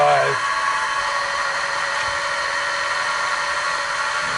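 Mini milling machine running during metal work on a weight hook, a continuous high-pitched whine and whirr that settles after a short drop in pitch at the start.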